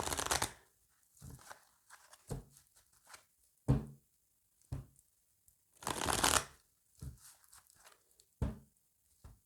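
Tarot cards shuffled and cut by hand in a series of short, crisp riffling bursts separated by pauses, close and fairly quiet, with no talking.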